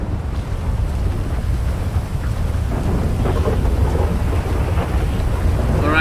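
Heavy rain with rumbling thunder in the video game GTA 5 during wild weather, a continuous loud roar of downpour and low rumble with wind buffeting, no voices.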